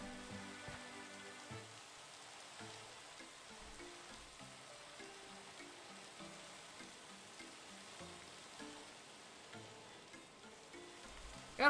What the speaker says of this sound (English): And now it rains.